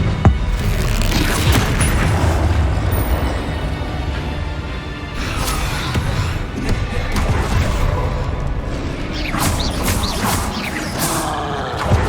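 Expelliarmus spell cast in the Hogwarts Legacy video game, dense booming magical blasts and crashing impacts throughout a loud, busy duel soundscape.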